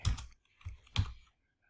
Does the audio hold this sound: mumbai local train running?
no